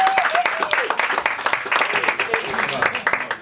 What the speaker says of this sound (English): Everybody give a round of applause for Brittany Kaiser.